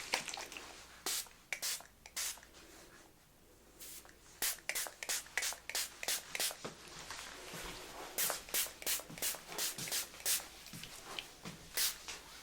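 Detangler spray is spritzed onto hair in a series of short, sharp hisses, then the hair is combed out with soft repeated strokes, all up close and quiet.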